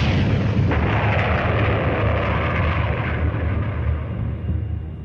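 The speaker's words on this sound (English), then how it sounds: "they aimed their newest and deadliest weapon at Antwerp, the V-2 rocket" A V-2 rocket explosion in WWII Antwerp comes as a loud, sustained roaring rumble that fills the whole span and slowly fades toward the end, with no voices.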